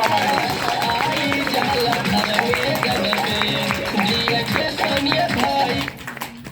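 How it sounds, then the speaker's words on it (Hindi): Audience at a DXN program clapping loudly and steadily, dense rapid hand claps mixed with crowd murmur, fading out near the end. "उनके लिए जोरदार ताली"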